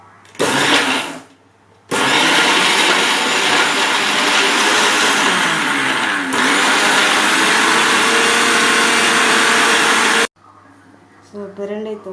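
A mixer grinder blends pirandai chutney in loud whirring bursts, a short run, a pause, then a long sustained grind that shifts pitch midway before cutting off, followed by brief talk.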